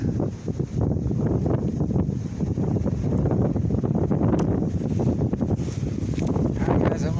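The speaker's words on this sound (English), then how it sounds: "it's really windy out today" Strong wind gusting across an open field, buffeting the microphone in a loud, continuous rumbling roar that swells and dips, with no speech.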